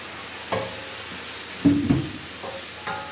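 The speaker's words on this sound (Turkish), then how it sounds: "Şöyle hafifçe karıştırıyorum" Food in a pot, with rice being prepared, is stirred gently, giving a few soft scraping and sloshing strokes over a faint sizzle, with pauses between them and no talk.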